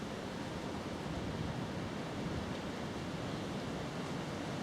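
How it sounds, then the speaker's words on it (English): Wind blows steadily across a sunken countryside footpath on a walk from Haslemere to Midhurst, a constant broad whooshing rush with no gusting breaks and no voices. "As the wind picks up"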